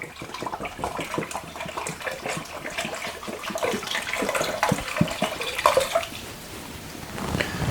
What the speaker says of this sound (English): So now we're going to add our vegetable stock.